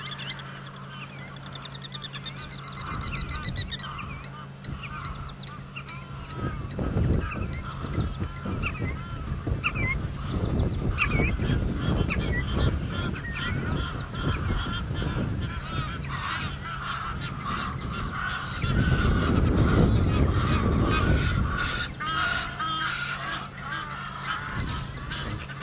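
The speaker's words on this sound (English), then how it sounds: "And you thought 2 Egyptian goose were noisy." A large flock of Egyptian geese gathers at sunset on a safari drive, honking and cackling in dense, overlapping bursts that stay close and loud throughout, with a particularly noisy surge near the end.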